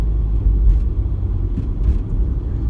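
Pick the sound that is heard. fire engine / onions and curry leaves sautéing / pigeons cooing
fire engine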